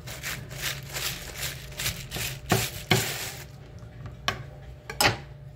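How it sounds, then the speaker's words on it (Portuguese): A knife chops pork fat for torresmo on a board in several sharp, uneven strikes, close and fairly crisp, with a soft background hum and no talking. "Aí eu tô picando."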